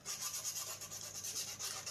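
Hand sanding of a 3D printed plastic part, a soft close rasping rub repeating in quick back-and-forth strokes, fairly quiet and alone.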